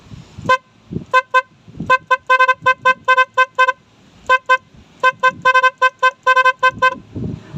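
A horn on a motorcycle or e-bike, wired through a switch, blasts in quick rhythmic bursts, short toots grouped into a patterned sequence with brief pauses, loud and close.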